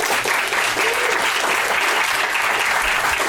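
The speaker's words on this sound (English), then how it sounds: "so give her a round of applause." Crowd at a live comedy show at the Improv Lab applauds with loud, continuous clapping, close and full throughout.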